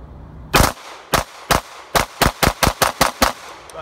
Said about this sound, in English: So I've just decided if I shoot 2 at a time, it's gonna be way better.